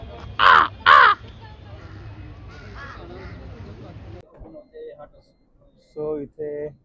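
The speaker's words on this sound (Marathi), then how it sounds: "इथले कावळे बघा किती काळे कुट्ट आणि मोठे आहेत असे." Large black crows in snowy Dudhpathri, Kashmir give two loud, close caws in quick succession, then a person talks while more calls follow later.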